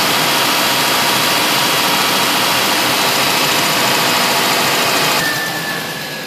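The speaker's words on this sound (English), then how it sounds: "You're just gonna run the RPM up for a little bit." A 3.1/3.4 liter car engine revved lightly while its coolant system is bled, a loud, steady mechanical hum that holds for about five seconds, then eases and fades at the end.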